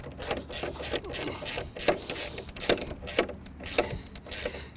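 A ratchet wrench tightens long bolts through wooden pergola box beams, giving a fast, steady run of clicking ratchet strokes that stays close and moderately loud with no talking.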